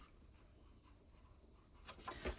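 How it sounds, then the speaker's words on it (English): Pen writing in a book, a very quiet, close scratching and scribbling that grows slightly louder toward the end, with no talking. "I'm going to write it in here as well."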